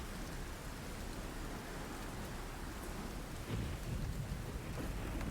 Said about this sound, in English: you guys can wait until the storm passes